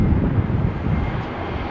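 Scoot Boeing 787 Dreamliner in Pokemon livery at London Heathrow, its engines giving a steady, fairly loud broadband roar with wind rumble, continuous and unbroken, with no talk over it.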